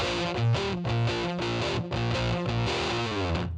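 Distorted electric guitar with a fuzzy, saturated tone plays a chugging shuffle rhythm, loud and continuous with steady bass underneath.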